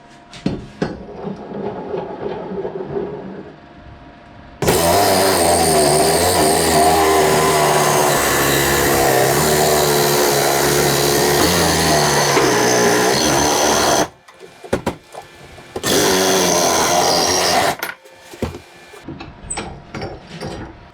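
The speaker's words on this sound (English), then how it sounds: "So I got a mark here on the 2x1. I'm going to cut it." Cutting a 2x1 metal tube for a homemade weight bracket cart for a Kubota BX tractor: a loud, sustained saw roar of about ten seconds, a short pause, a second shorter burst, then workshop clatter.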